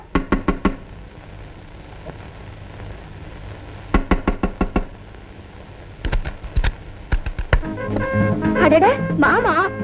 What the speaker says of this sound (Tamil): அஞ்சு நிமிஷமா கதவை தட்டேன்